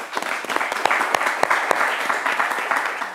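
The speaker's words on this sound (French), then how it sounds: "Merci encore, on peut les applaudir." An audience applauds contest winners on a French-language television show, with close, brisk clapping from many hands that holds steady for about three seconds.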